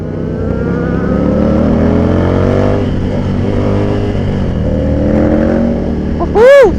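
Motorcycles on a charity ride rumble loudly and continuously, their engines rising and falling as riders rev and shift, with a sharp rising whine near the end.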